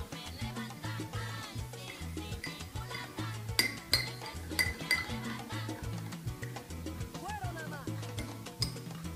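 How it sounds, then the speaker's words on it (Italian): A spoon stirs turmeric milk sweetened with honey in a cup or pot, giving light repeated clinks and scrapes over a steady rhythmic music bed, with no talking. "Poi, come dolcificante, andiamo a mettere il miele. Andiamo a mescolare."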